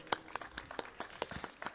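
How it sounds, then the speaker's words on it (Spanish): Sparse applause from a small audience at a talk about women's football, a handful of separate, fairly faint claps scattered unevenly over under two seconds. "quería un aplauso para Liz, por favor"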